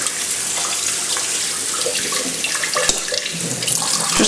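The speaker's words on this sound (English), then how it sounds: "you can just give it a rinse over with some cold water" Cold water runs from a kitchen tap over cooked pasta shells, a continuous close splashing hiss with a few sharper drips and clatters toward the end.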